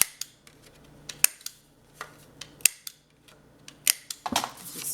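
A corner cutter rounds the corners of a folded paper card, giving sharp isolated clicks and snaps spaced about a second apart, close and crisp against a quiet background, ending in a quick cluster of small rustles.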